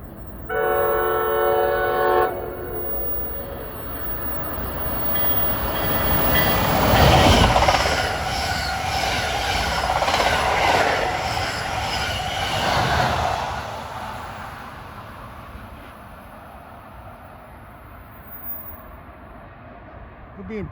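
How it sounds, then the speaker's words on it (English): An express commuter train to Trenton at New Brunswick, New Jersey, opens with a loud horn blast, then roars through close by with a swelling rush of wheels and wind that slowly fades, as a voice talks over it. "here comes the first of those expresses to Trenton"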